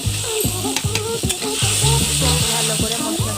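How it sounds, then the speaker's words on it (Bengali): Spice paste with salt and turmeric frying for a light small-fish curry, close sizzling with a rhythmic series of spoon scrapes and knocks against the pan. "ভালো করে মশলাটাকে কষিয়ে নেব"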